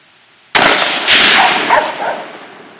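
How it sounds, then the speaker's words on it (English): A single sharp, loud crack from a Savage Model 10 .223 rifle fired outdoors at a target around 200 yards, followed by a long reverberating tail that fades slowly. "I think you shot over it again."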